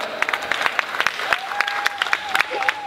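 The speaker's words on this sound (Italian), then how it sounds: "L'applauso è per la stella più bella" Applause for a woman guest at an Italian tribute evening, scattered claps spread through a crowd alongside a tonal whistle-like sound and brief voices in the background.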